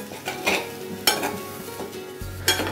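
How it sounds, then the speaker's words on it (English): Corn and green peas samosa filling with salt and coriander leaves being stirred in a pan, giving a few distinct scrapes and clinks of a spoon over a faint sizzle. "Then we'll add the salt, coriander leaves, and we'll just mix it up well."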